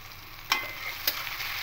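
Shrimp, washed and coated in salt and turmeric, hit hot oil in a pan with a steady close sizzle and two sharper spitting bursts as pieces are added.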